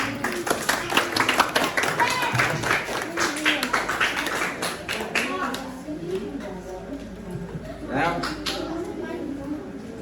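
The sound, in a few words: applause from a class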